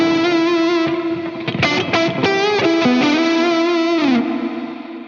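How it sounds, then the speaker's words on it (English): Electric guitar played through a Wampler Catacombs delay/reverb pedal with reverb engaged, sustained chords and single notes ringing out with a lush wash tail, steady and loud, no voices. "So there's the reverb."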